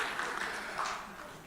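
Brief, fairly faint audience applause at a post-budget economic forum, a soft, even wash of clapping with no voices over it.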